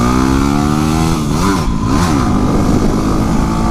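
A Yamaha WR250R motorcycle engine revs loudly and close, its pitch climbing and dipping through a couple of throttle blips before holding steady.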